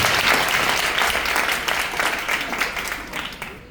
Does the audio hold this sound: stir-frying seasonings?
no